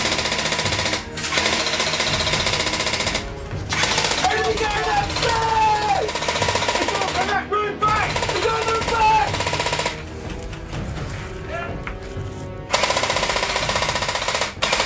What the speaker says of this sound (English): We are taking fire from the gable end of building 5 as well.